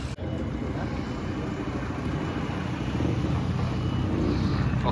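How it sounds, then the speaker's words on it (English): A Mark II VW Golf GTI replica pulling away at a car show, its engine a steady rumble under strong wind buffeting on the microphone, holding fairly constant and no one speaking. "Off goes the Mark II Golf."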